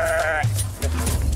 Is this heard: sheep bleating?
yes